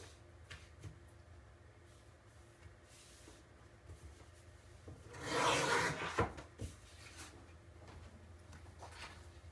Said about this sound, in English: I'm going to use my super sharp trimmer.